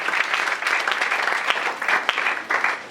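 A church congregation applauds in a continuous, dense clatter of clapping, with faint voices mixed in.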